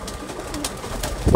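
A kept pigeon in a Sialkot pigeon-keeping loft gives a brief, soft, close coo, heard alone over a faint breathy background.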